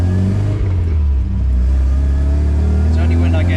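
An MGB sports car engine on a test drive, a steady loud low rumble throughout with a slight rise in revs, heard from inside the car alongside road noise.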